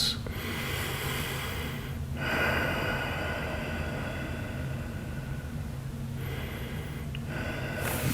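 Deep, slow breathing during a quad stretch, with long rushing inhales and exhales in a steady cycle and brief pauses between breaths. The breathing is close and fairly loud, with no talking.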